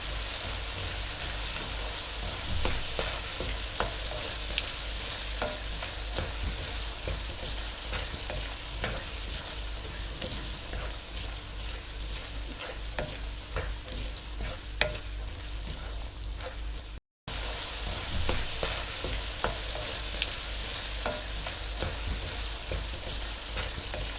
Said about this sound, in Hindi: और इसको 2 मिनट के लिए फ्राई करें। आपने आंच ज़रा हल्की रखनी है।